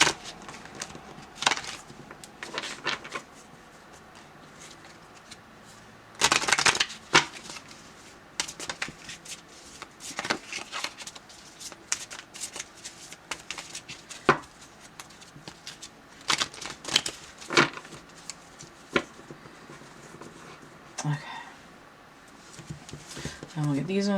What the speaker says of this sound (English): These hexagonal ones are fairly thin, and they're a little bit harder to shuffle actually than the heart-shaped cards that I've got.